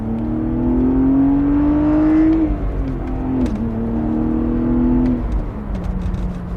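A BMW 130i E87 engine revs up steadily, with its tone climbing to a peak before dropping, then building again and easing off, loud and close throughout with no talking.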